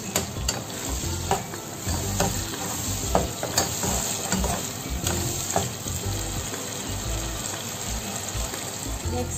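Seafood butter chili garlic sauce with oyster sauce being mixed in a pan, a steady close sizzle with repeated scraping and clinking of the utensil throughout.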